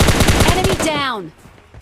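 Rapid bursts of automatic gunfire in PUBG Lite, loud and close in a quick staccato run, then ending in descending whooshing tones as the firing stops.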